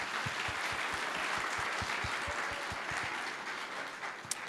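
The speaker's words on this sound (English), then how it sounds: "can we have a round of applause for the thought, first of all?" An audience at a corporate panel event applauds in a steady wash of clapping, with a few distinct louder claps standing out near the microphone.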